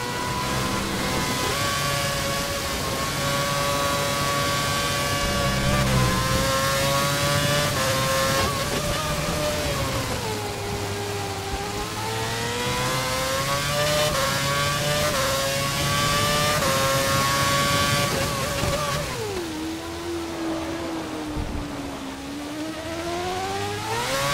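Formula 1 race car engines in the F1 2011 video game, Malaysia circuit, scream continuously at high revs, the pitch rising and dropping with gear changes and braking, loud and close throughout.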